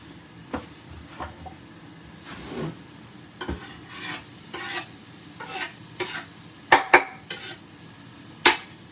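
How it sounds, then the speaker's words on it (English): Onions cooking in butter in a pan, with scraping stirs, soft sizzling and occasional sharp utensil knocks against the pan, close up and without talk. "For these onions, we are going to cook them in butter."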